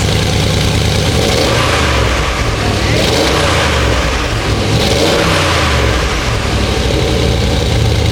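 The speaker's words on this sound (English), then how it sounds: "It's definitely got way more of an exhaust note now instead of just air intake noises." A Porsche 958 Cayenne Turbo with its secondary catalytic converters deleted gives a loud, deep, burbly exhaust rumble that holds steady with slight rises in revs, close up and with no talking.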